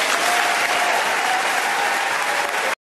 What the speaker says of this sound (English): The speech was met with applause at the small Catholic college